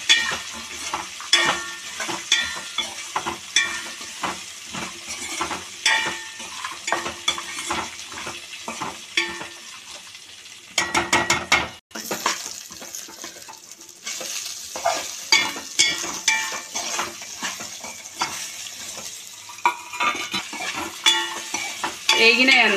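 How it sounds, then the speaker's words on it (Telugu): Peanuts and raw ivy gourds fry and sizzle in a pan, with steady crackling broken by repeated scraping stirs and clinks of a utensil against the metal, dipping briefly quiet midway before the lively sizzle returns. "పల్లీలు వేగినాయి, పచ్చికాయలు ఇంకా కొంచెం వేగాలి."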